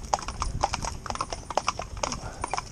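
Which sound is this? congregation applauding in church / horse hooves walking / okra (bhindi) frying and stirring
horse hooves walking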